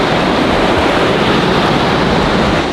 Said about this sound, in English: Welcome to the waterfall.